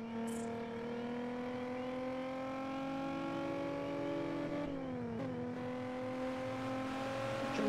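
A limousine engine in the video game Gangster New Orleans is held at top speed, producing a steady, droning whine that slowly climbs in pitch and dips briefly near the end, with no voices.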